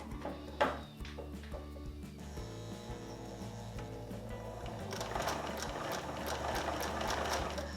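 A sewing machine stitching fabric runs with a steady mechanical whirr and rapid needle chatter at close range, growing a little louder and busier toward the end, with no voices.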